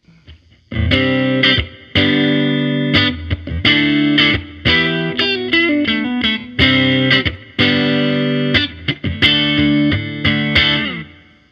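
A PRS Swamp Ash Special electric guitar on the neck pickup, through a Pro Jr. amp with reverb, strums chords in short bursts with brief pauses, a warm, slightly driven tone with a reverb tail lingering after each phrase.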